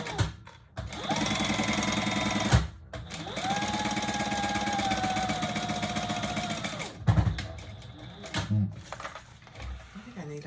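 A sewing machine runs in long bursts while top-stitching a bowler handbag, loud and close, with a steady motor whine and rapid needle chatter, then stops, followed by a few clunks and rattles.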